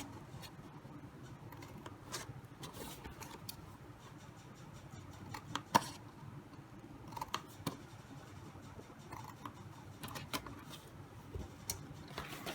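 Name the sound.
scissors cutting paper tabs for a favor box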